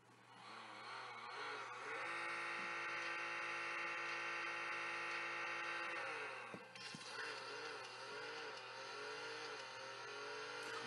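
A Ferrari 575 GTC Evoluzione engine revs hard in the Racing Rivals drag-racing game, a steady high-pitched whine climbing through the gears, with a short dip at a shift before it pulls on again.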